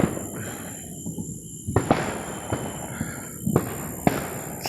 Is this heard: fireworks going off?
yes